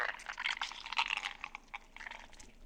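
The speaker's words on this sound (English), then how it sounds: "Woman Shriek, Tentacle Squish," A wet, slurping tentacle squish from the video game Star Stable, a soft gurgling squelch with a few bubbly pops that flows on for a couple of seconds at low volume.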